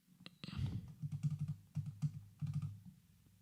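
A computer keyboard key is pressed repeatedly, producing a quick series of soft, close plastic clicks and taps, faint and without talk.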